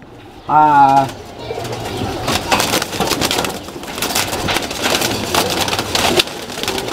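A female Makra pigeon of a Bengali breed gives one brief, loud coo near the start, followed by rustling, fluttering and shuffling with a person talking underneath.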